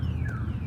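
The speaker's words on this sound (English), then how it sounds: "Set the alarm off again." A car alarm set off by motorcycle exhaust wails with a steady, sliding electronic siren tone over a low, continuous rumble, loud and close.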